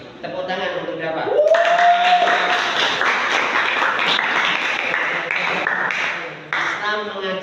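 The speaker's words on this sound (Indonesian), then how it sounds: "Tepuk tangan untuk Bapak." Applause from an Islamic lecture audience fills the room, steady and fairly loud, mixed with voices and a brief tonal sweep, tapering slightly near the end.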